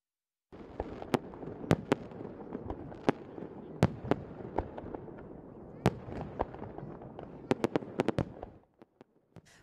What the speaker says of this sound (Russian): В столице запустили праздничный фейерверк в трех местах сразу.